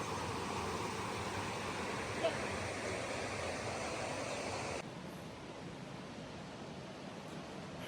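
Steady broadband rushing of a river running nearby along a hiking trail, continuous and even with no talking, dropping slightly in level partway through.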